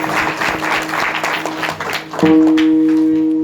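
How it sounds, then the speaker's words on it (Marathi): Audience applause at a kirtan, a steady wash of many hands clapping together at close range, then swelling louder as sustained harmonium-like tones enter partway through. "आपण त्यांच्याकरता टाळ्या तरी वाजवल्या पाहिजे"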